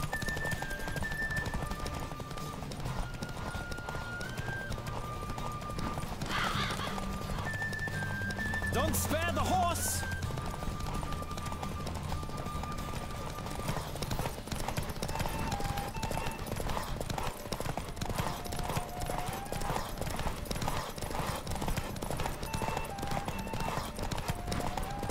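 A horse in the video game Witcher 3 gallops with steady, rhythmic hoofbeats and gives a neigh partway through, set under a music score and game sounds.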